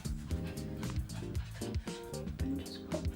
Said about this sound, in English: Sorry about the noise from my dog, she's trying to get comfy.